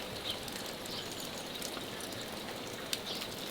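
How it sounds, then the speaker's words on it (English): Steady rain patters on surfaces, a soft continuous hiss with scattered drip ticks and a faint bird call in the background. "now it is almost midday and we do have rain."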